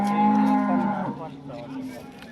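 A single cow gives one long, loud, close moo at a busy cattle market, and the call trails off into faint background noise.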